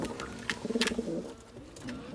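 A young pigeon coos softly nearby, a few low throaty pulses, quiet against faint background noise.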